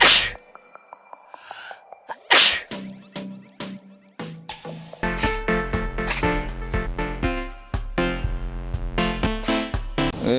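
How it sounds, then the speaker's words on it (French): Sneezing sounds among sharp bursts and clicks, with a breathy burst early on followed by a run of loud, rhythmic, tonal hits and punchy accents, more like a produced sequence than a single natural sneeze. "Intéressons-nous aujourd'hui à l'éternuement."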